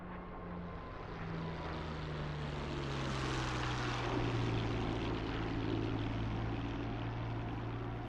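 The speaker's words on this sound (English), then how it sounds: "Coming in, close buzz, close buzz." A propeller warplane in a flight-sim game makes a close, low buzzing pass, its engine drone swelling to a loud peak midway and then sliding lower in pitch as it passes.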